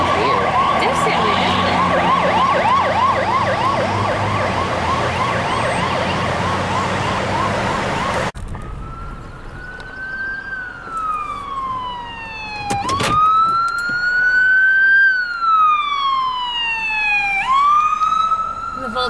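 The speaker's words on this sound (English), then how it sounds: "Oh, it's a fire truck, even." A Halifax fire truck siren on an emergency call: first a rapid yelp cycling loudly, then a slower wailing tone that rises and falls, close and strong, with a brief horn blast in between.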